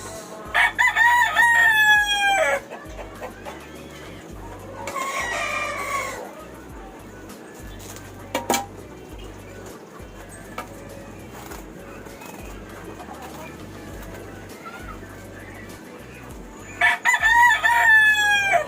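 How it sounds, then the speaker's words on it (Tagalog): A rooster crows twice, loud and nearby: once at the start and again at the end, with quieter background noise and brief sounds in between. "Tilaok na naman ng manok."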